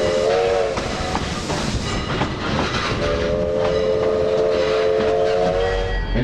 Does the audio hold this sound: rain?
no